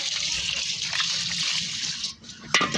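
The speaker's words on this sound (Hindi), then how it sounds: "ऐसे ये मैंने 4 गिलास पानी डाला होगा" Water pours steadily over mung lentils in a pot in a continuous gushing stream for a couple of seconds, briefly dropping off before a splashy burst near the end.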